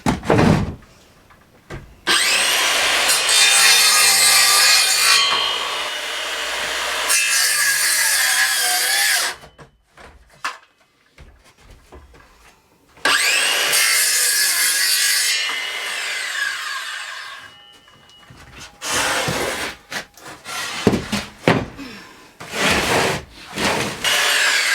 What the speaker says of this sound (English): So take your circular saw again, do some more cuts.